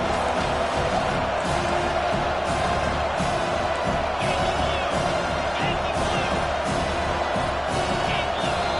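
A roaring stadium crowd in the NCAA 25 college football video game makes a loud, dense, continuous wash of cheering with scattered shouts. It holds steady throughout.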